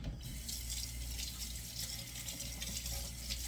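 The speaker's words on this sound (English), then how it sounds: "rinse your blade." A knife blade is rinsed under a steady stream of running tap water at a sink while preparing paper plate sushi, giving a continuous even splash and hiss throughout with no voices.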